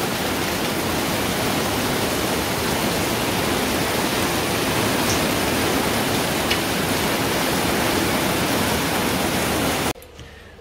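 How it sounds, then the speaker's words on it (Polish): Heavy rain falls in a steady, loud, continuous hiss that fills the whole scene, then cuts off abruptly near the end, leaving near silence. "Dobra, przestało padać."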